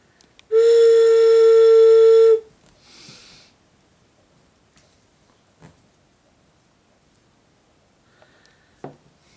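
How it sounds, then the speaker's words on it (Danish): A folk-art whistle from the Balkans or Italy blown in one steady, loud, bright tone lasting about two seconds, followed by a brief softer breathy puff and then near silence with a few faint knocks. "Og her der er sådan en fløjte"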